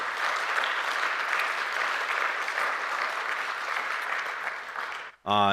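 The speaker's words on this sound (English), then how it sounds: "Let's just applaud that." Applause from a large audience at a service project testimony gathering, a dense, steady wash of many hands clapping for about five seconds, then cut off abruptly as a voice starts at the end.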